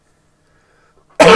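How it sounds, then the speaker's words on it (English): A single sharp cough bursts out after a stretch of near silence, loud and close, from someone recording motion capture at a desk. "Hopefully that cough isn't going to be too bad."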